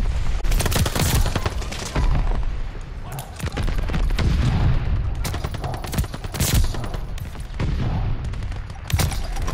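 MP40 submachine gun fire in the video game Call of Duty: Vanguard, loud rapid bursts of shots with heavy booming thumps, repeating in dense clusters across the whole stretch.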